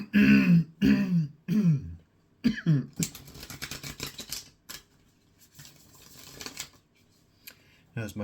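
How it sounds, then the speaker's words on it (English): Playing cards are shuffled by hand in a few quick riffling bursts, close and moderately loud, following short spoken phrases and separated by brief pauses. "So let me shuffle some more cards."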